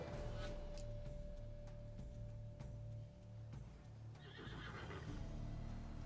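A horse in The Witcher 3 video game neighs and snorts over soft clip-clop hooves and a low ambient hum, moderately near and fairly quiet.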